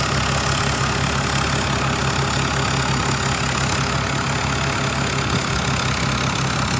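Engine of a Thai-built rice harvester running steadily at idle, a loud, close, continuous low rumble with a faint knocking throb and no voices.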